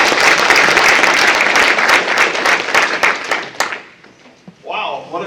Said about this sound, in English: Let's give a big hand for Dave